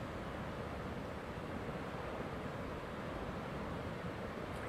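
Atlantic Ocean waves wash in at the rock tidal pools of Cape Town, a constant, soft roar of surf mixed with wind, faint and steady throughout with no voices.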